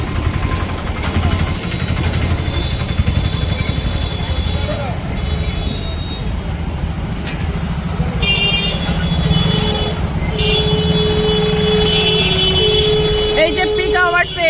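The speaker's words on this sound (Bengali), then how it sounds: "এত ট্রাফিক জ্যাম" Slow, congested morning traffic in Silchar: a steady rumble of idling and creeping cars, buses and other vehicles, with occasional horn-like tones toward the end and people talking over it throughout.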